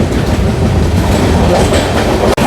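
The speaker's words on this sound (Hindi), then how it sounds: "यहीं पे अभी हमारी क्रॉसिंग हो रही है एक गुड्स ट्रेन से।" A train rolls along rails between Patna and Rajgir as a goods train passes close by, filling the air with a loud, continuous rumble and clatter of wheels, then a sharp cut near the end.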